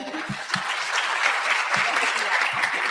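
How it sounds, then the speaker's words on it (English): Conference audience gives a round of applause, steady dense clapping from a room full of people, with a few low thumps and murmurs underneath. "Can we have a round of applause?"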